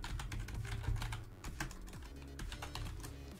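Quick, close keystrokes rattle on a computer keyboard in a short, continuous run of typing with no voices.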